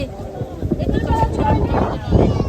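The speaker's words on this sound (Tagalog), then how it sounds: "Super hangin." Gusty wind in Baguio City buffets the microphone with a low, rumbling roar, steady and close, with a stronger blast near the end.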